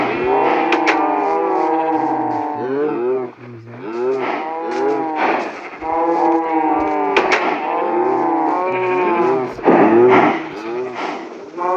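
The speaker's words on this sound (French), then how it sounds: "on a des moutons" Sheep bleating in the video game Minecraft, a string of wavering, nasal animal calls repeating one after another close up, fairly loud and continuous with no speech over them.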